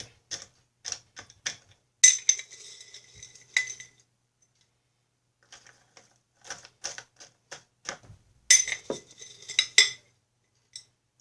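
Dry, crisp pieces of dehydrated broccoli scooped into a half-cup measuring cup, giving light scattered rattles and clicks in two short clusters separated by a quiet pause.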